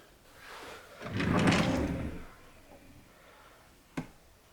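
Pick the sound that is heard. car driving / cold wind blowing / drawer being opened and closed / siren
drawer being opened and closed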